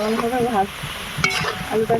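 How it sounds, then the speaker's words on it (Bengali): Potatoes frying in a pan for an aloo chop curry, a steady soft sizzle with faint stirring scrapes beneath, close and moderate in loudness. "আলুটা ভালো করে লাল করে ভাজতে হবে।"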